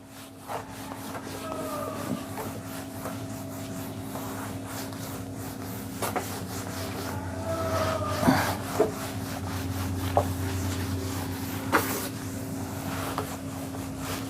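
A teacher wipes writing off a classroom board, giving repeated soft scraping and rubbing strokes over a steady low hum, with a few sharper knocks scattered through.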